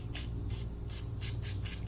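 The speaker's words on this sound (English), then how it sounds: "A lot of times I will use something like this Lynx battery cleaner, and I will just spray the terminal." Short bursts from an aerosol can of Lynx battery cleaner sprayed onto a corroded RV battery terminal, several quick hissing puffs in a steady rhythm over a low constant hum, close and alone.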